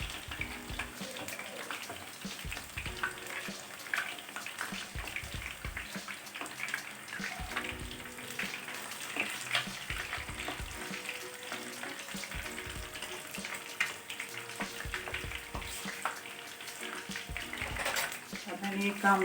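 Spice-marinated fish shallow-frying in oil in a home kitchen, a dense continuous crackling sizzle that carries on steadily throughout, with a voice talking over it.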